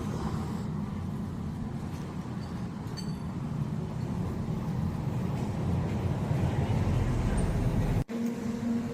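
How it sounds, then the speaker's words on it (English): Arlanda Express airport trains in Stockholm: a steady low rumble of rail and station ambience, with a faint metallic clank midway and a sharp break near the end, with no voices. "Here are the Arlanda Express trains, the expensive ones."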